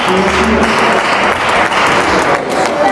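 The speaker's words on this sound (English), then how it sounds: "Brother and dad, nod and applause on that shot." Spectators clap for a shot at a junior world championship racquetball match, a short burst of steady, moderately close applause mixed with light taps and thuds.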